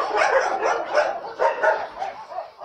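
A pack of shelter dogs barking together, rapid yapping and deeper barks overlapping in uneven bursts, loud and near, with occasional whiny yips mixed in.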